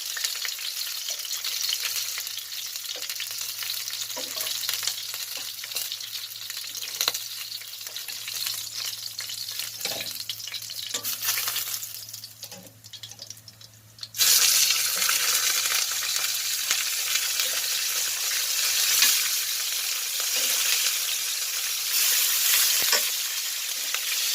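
Pork pata browning in a pan for Bisaya humba, a steady close sizzle of frying meat that swells louder midway and continues strongly, with occasional stirring clinks and no talk.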